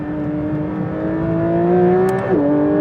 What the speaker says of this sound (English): So I've just started the car at this point